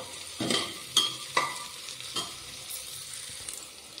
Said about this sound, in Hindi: अब इसे हम अच्छी तरह से मिक्स करके इसे अच्छी तरह से भून लेंगे।